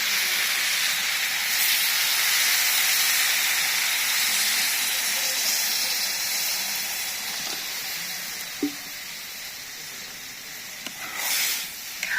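Water poured into a hot pan of pumpkin curry (sweet pumpkin kalia) in a village kitchen, giving a loud steamy hiss that swells early and gradually fades, with a couple of brief clinks near the end.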